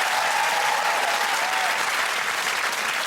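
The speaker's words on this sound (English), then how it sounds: "Give them a round of applause." Studio audience applause on a comedy quiz show, a dense, even roar of clapping that stays loud and steady throughout.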